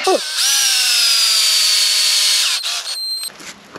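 A power drill whirs loudly and steadily for about two seconds, driving a screw outdoors while installing an invisible dog fence, then winds down with a brief second burst, close up.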